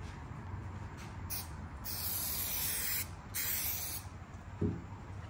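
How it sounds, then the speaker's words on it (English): A spray gun hisses in several bursts of varying length as it coats the bottoms of valley table rails, loud and close, with short pauses between bursts and no talking. "Spray these bottoms."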